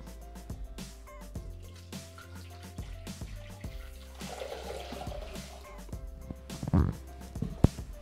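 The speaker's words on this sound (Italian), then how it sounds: "Senza lavare il boccale, andiamo a mettere l'acqua." Water poured into a Thermomix TM6 bowl in a kitchen, a short splashing pour heard near the end amid background music, with a few drips and clunks around it.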